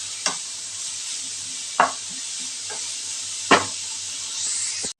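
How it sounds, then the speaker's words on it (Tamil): Mixed vegetables with ginger garlic paste and masala sautéing in a pan for cutlets, a steady bright sizzle with three or four sharp spoon scrapes against the pan. "இது நல்லா வதங்கி வரட்டும்"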